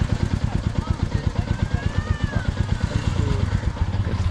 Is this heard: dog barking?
no